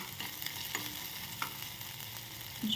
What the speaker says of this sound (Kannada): ಈ ರೀತಿ ಬೆಳ್ಳುಳ್ಳಿ ಹಾಕಿ ಫ್ರೈ ಮಾಡಬೇಕು.